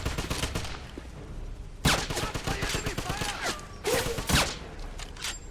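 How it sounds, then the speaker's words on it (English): Suppression gunfire in the Xbox 360 game Wolfenstein, sustained automatic bursts layered with heavier booms and mechanical clatter, loud and continuous, with shouted voices woven through the battle. "I need suppression fire!"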